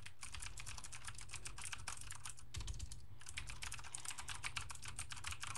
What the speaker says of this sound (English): Have fun listening to my keys.